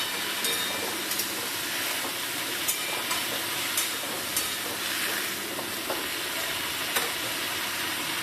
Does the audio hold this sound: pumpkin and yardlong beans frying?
yes